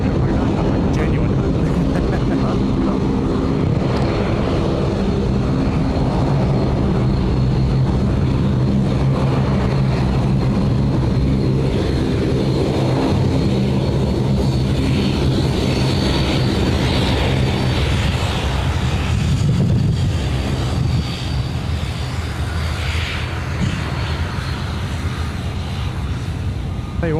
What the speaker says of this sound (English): the Dash 8 making a bit of noise tonight